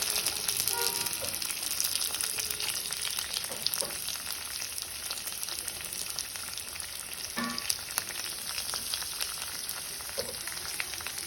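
Onion frying with cumin, mustard seeds, dried chilli and curry leaves in a pan for chole curry, a steady close sizzle throughout with occasional spatula scrapes and small pops, no talking.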